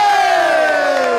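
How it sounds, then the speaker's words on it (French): A loud studio audience cheers for a performer on a New Year's television variety special, with sustained massed voices shouting and whooping close up, steady over the whole moment. "On applaudit plus fort pour lui."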